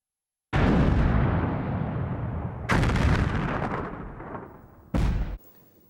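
Bombs from a 1961 South African sabotage campaign go off in three heavy, booming blasts, each leaving a long rumbling decay, loud and close with no voices.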